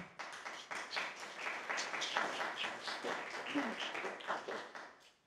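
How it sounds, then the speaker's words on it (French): A modest round of clapping from a small evening meeting audience in Saint-Malo, many hands close by, rising and falling in uneven waves before dying away at the end. "aussi un petit applaudissement pour toi"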